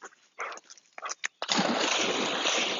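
A dog learning to swim paddles and splashes in water, with scattered short splashes and whimpering bursts at first, then a continuous churning splash close by.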